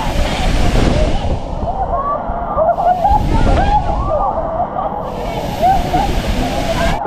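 Rushing water at the Lata Perahu waterfall campsite in Kuala Kangsar, a steady loud broadband roar with sloshing surges throughout, and a voice speaking over it.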